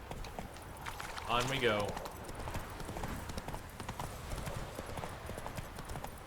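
The horse Roach galloping in The Witcher 3: Hearts of Stone, a rapid clip-clop of hooves with a brief whinny near the start, heard under a voice speaking a few words.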